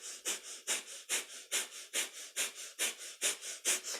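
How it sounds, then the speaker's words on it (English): Breath of fire in a kundalini yoga session: rapid rhythmic panting through the nose, about a dozen even sharp exhales at a steady quick pace, close and clear with no talking. "Light panting breath."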